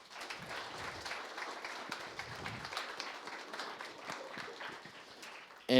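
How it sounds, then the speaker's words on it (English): Applause from an audience at a developer meetup, a steady wash of clapping that runs for several seconds at moderate distance, with no talk over it. "give him another round of applause"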